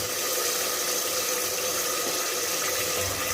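Water is poured into a pan of frying tomato paste, giving a steady, even hissing wash of sound that runs throughout at moderate loudness.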